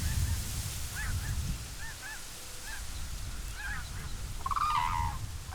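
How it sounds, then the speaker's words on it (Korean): A flock of migratory geese rises over reed beds in early-winter Suncheon wetlands, giving scattered honks at moderate distance, with a louder, closer honk near the end over a low ambient rumble. "갈대숲 위로 철새들이 날아오른다."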